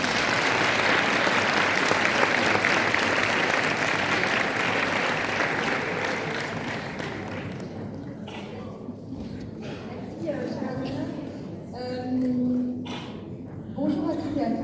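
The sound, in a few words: applause at a diploma ceremony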